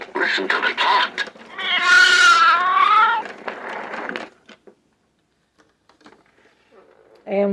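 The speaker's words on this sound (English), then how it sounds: "Listen to the cat." A recorded cat meow from a 1989 sound toy, a long drawn-out wavering yowl in the middle, with short bursts before and after and a quiet stretch toward the end.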